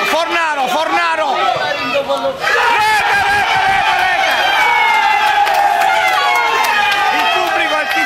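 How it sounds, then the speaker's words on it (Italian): An amateur football crowd roars and shouts for a goal, loud and continuous throughout, with an excited commentator talking over the din. "il pubblico, i tifosi gridano al gol"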